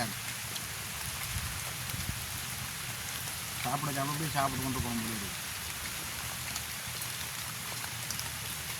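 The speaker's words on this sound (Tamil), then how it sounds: "இப்போ எங்களுக்கு நாலு பக்கத்தாலே மழை வந்து ஒன்று இருக்குண்ணே" Steady rain falls all around, a soft, even hiss of drops with a person talking briefly over it partway through.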